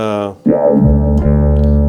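Bass guitar played through a Ghost pedal with the distortion turned all the way down: a clean, sustained low note drops out briefly, then a new note swells in with a filtered sweep and rings steadily.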